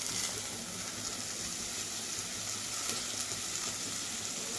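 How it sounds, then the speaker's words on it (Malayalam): Green chilies and tomatoes fry in a pan for a bitter gourd masala curry, giving a soft, steady sizzle and hiss that is close but fairly quiet, with no talking over it. "പച്ചമുളക് ചേർത്ത് കൊടുത്തിട്ടുണ്ട് തക്കാളിയും കൂടി ചേർത്ത് കൊടുക്കാം"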